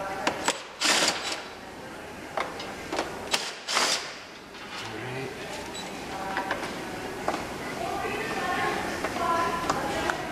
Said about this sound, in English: Remove those 6 screws.